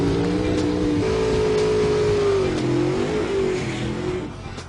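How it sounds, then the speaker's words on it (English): Drag car engine held at high revs during a burnout, a loud close drone with pitch wavering and sagging before easing off at the end. "Both drivers did 3 burnouts and a pair of launches"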